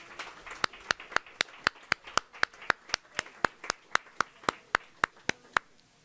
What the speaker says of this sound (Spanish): También un fuerte aplauso para él.